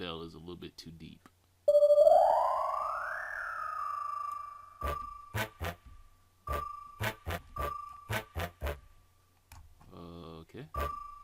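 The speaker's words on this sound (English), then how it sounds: "That bell is a little bit too deep." Synthesized bell tone played on a music production setup, a sustained rising tone followed by a series of evenly spaced short electronic dings, with brief talking at the start and end.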